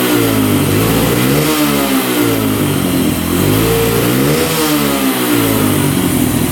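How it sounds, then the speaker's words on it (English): A cheap ATV quad engine with a hesitation fault revs loudly and close, rising and falling in repeated sweeps with a rough, buzzy tone and no talk over it. "It's like but it stays idling and it actually revs out."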